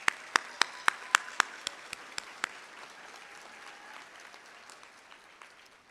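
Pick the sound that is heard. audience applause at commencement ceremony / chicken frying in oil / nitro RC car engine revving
audience applause at commencement ceremony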